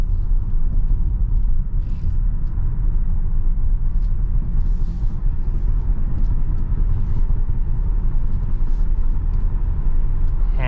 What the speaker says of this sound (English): So we'll go ahead and merge on this freeway.